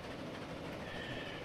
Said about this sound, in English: So we've launched a train. Let's ride the train, shall we?